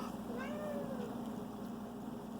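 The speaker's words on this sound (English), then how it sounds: "He's over here meowing at you." A pet cat gives one drawn-out meow indoors, heard close but not loud over a steady low hum in the room.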